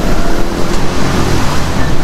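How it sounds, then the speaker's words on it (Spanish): Heavy, constant roar of city traffic in San Salvador, dense and close with a windy, surf-like rush of engines and tires that never lets up. "De San Salvador, el tráfico estresante."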